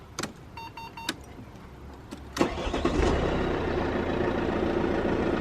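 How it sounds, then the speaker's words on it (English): A Mercedes SLK250 starts after a few dashboard chimes and clicks: the starter cranks briefly, the engine catches with a loud burst and settles into a steady close idle. "Now we can start the car."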